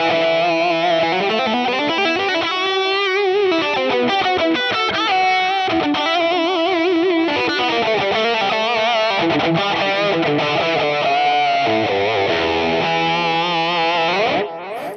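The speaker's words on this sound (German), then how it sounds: "So hätten wir dann alle Effekte zusammen. Also Hall, Reverb, Delay und die Zerre." An electric guitar runs through a Line 6 Pod Go with distortion, delay and reverb, playing loud sustained chords and melodic lines that wash together in echoing repeats for the whole stretch.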